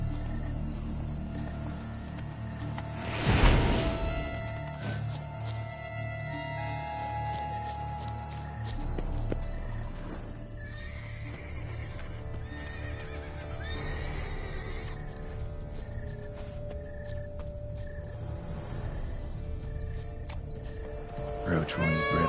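Roach the horse in The Witcher 3 neighs once loudly near the start, with game ambience, hoof clip-clop and occasional animal calls continuing under music-like tones and some talk.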